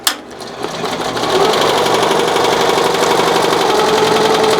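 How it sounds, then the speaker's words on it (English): A BAi Vision embroidery machine stitches zigzag stitches over 3D puff foam. After a brief start, a rapid, steady mechanical needle chatter runs close and loud, with no talking. "It's embroidering the foam nicely."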